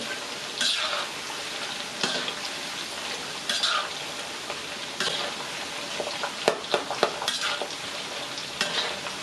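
Banana chips frying in butter or margarine are stirred through the pan, a steady sizzle with repeated scraping and clinking strokes of a utensil, close and fairly loud, no talking.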